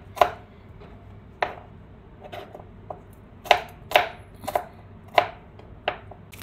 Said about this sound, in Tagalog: Iwain ko lang yung mga bawang, garlic, and sibuyas.